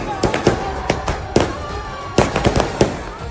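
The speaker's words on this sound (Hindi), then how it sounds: "नवाज शरीफ के समर्थकों ने बीच सड़क पर आतिशबाजी कर दी" Fireworks and firecrackers set off in the middle of a street during a political rally in Lahore, with rapid irregular bursts of sharp cracks and pops over crowd noise.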